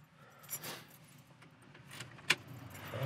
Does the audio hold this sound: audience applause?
no